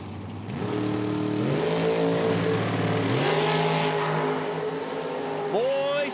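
A 1962 Chevy II drag racing car launches at an IHRA Outlaw Nitro event in Milan, its loud engine revving up through several rising gear pulls and roaring steadily close by for about six seconds.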